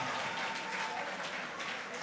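An audience at a youth leadership debate grand final applauds, a steady wash of distant clapping that fills the room without any clear pauses.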